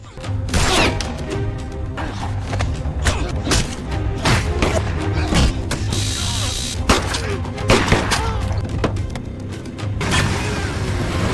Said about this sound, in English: Suddenly, gunshots rang out.